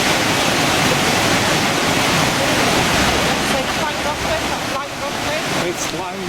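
River Dee rushing through Llangollen, a loud steady roar of fast water heard close by with no talk.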